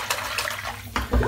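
Tap water runs into a bathroom sink being refilled to rinse a razor, a close splashing rush with a brief break and then a stronger gush near the end.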